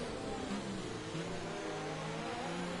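Racing-game cars at the Japanese GP around 130R at Suzuka, with engines droning and revving continuously at high pitch, several machines blending into one loud, steady roar.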